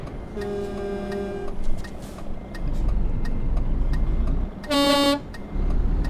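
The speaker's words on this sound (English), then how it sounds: "And I honk at him" Two horn blasts from a truck in Euro Truck Simulator 2, a longer tone first and a shorter one a few seconds later, over a steady engine rumble with a ticking indicator.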